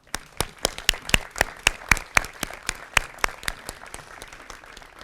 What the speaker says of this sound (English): Please give all our families a well-deserved round of applause.